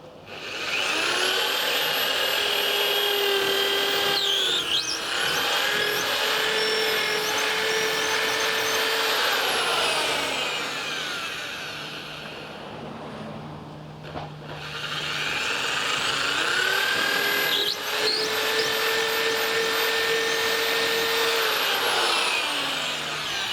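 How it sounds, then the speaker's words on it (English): A power drill with a long drill bit whines loudly through wood in two long runs, its pitch rising and falling as it bores, with a short quieter pause between. "Again using a long drill bit."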